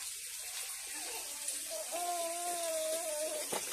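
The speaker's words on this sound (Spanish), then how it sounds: "Cayendo el agua" Water runs from a tap as a soft steady hiss, faint and somewhat distant, with a brief tonal whistle partway through and no clear speech.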